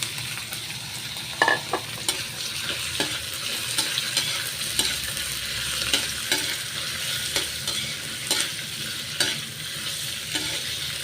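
Shrimp frying in a pan crackles with a steady sizzle while a utensil scrapes and clacks against the metal in irregular stirring strokes, close and fairly loud, with no voices.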